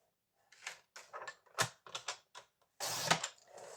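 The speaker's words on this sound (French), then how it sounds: "Je reprends mon autre massicot." A black paper guillotine cutter from Action is worked in a quiet room, giving a string of close, crisp clicks and snips followed by a longer sliding rasp of the blade.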